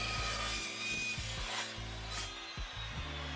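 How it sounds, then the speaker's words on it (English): An Evolution S355MCS 14-inch miter chop saw cuts through 2x1 rectangular steel tubing, giving a loud, continuous grinding rasp with a steady motor drone and rhythmic scraping pulses throughout. "I'm gonna cut a 2x1 rectangle tubing."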